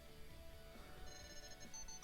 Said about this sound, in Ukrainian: Реальна функція знайти навушник. І навушник дзвонить.